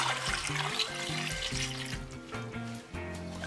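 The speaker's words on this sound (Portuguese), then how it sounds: "Vamos cobrir com água" Water from a tap runs into a deep pot over halved, skin-on potatoes, a steady close splashing stream under faint background music.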